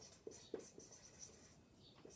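Pen or chalk strokes scratch out math notation, a few faint, irregular marks and taps close by, quiet against a soft background hiss, no voices.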